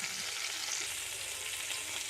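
Moringa drumstick pieces fry in oil for a dry stir-fry, an even, bright sizzling hiss that holds steady throughout at close range, with no voices.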